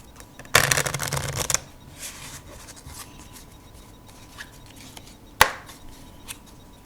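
A deck of Bicycle Elephant playing cards is riffled in one dense burst of fluttering card flicks up close. A few softer card taps and one sharp snap follow against a quiet room.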